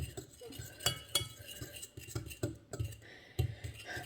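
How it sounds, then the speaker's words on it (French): A fork clinks and scrapes against a bowl while mixing egg yolks for a zucchini quiche, quick irregular taps and stirring strokes close by under a quiet background. "prenez une fourchette et mélangez déjà tous les jaunes"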